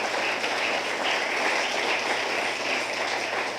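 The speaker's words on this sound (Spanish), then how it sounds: "Démosle un aplauso al Señor." A church congregation claps together during a sermon, a steady dense patter of hands sustained at even loudness throughout, with no speech over it.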